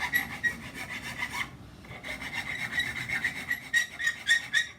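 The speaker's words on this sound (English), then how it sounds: "what I want to do with this is just file off the burr on that edge" A metal file rasps the burr off the cut edge of a threaded rod in close, rhythmic back-and-forth strokes, a short pause partway through, then more rapid scraping strokes, with no talking.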